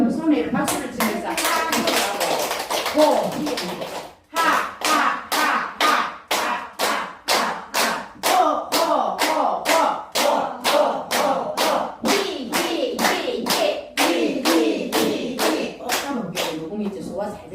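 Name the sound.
group clapping hands in exercise class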